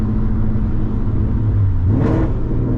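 A 2015-2023 Ford Mustang GT V8 exhaust drones steadily from inside the cabin, a low mild rumble that rises briefly in pitch with a short rasp during a downshift before settling back.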